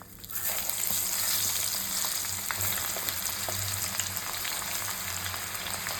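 Onions fry in hot coconut oil in an iron pan, a loud, steady sizzle that bursts in as they hit the oil and then crackles on evenly.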